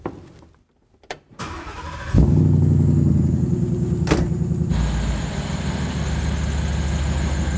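A Ford car with a newly installed Ford Performance power module starts with a sharp crank and catches, then settles into a steady, loud, close rumbling idle that continues to the end.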